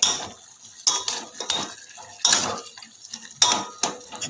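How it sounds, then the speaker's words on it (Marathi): Sweet potato slices stirred in a pan with a utensil, giving intermittent scraping and clinking bursts at an irregular rhythm, close and moderately loud, with no talking. "एक मिनिटभर सर्व बाजून व्यवस्थित मिक्स करून घ्यायचे"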